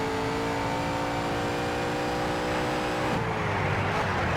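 A race car engine in the Need for Speed: Shift video game drones at a steady high pitch, then the tone drops abruptly as the revs change, loud and continuous without talk.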